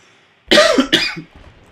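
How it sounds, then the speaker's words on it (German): Two harsh, close coughs in quick succession from a man, loud and raspy, followed by a faint throat-clearing rasp before quiet. "Ich muss auch die ganze Zeit husten, das ist unglaublich."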